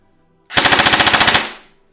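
An airsoft gun fires full automatic over a chronograph in one tight burst of about fifteen rapid, evenly spaced shots. The burst is close and loud, lasts under a second, and is followed by a brief mechanical tail-off.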